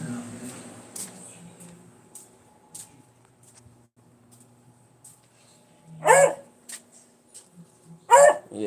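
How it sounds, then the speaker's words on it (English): An old dog gives two loud, close barks a couple of seconds apart, with soft room noise and faint murmuring talk between them. "She's a good dog"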